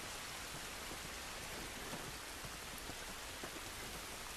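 Steady rain falls in the video game The Last of Us, a dense, even hiss of drops on surfaces that carries on without a break and with no voices.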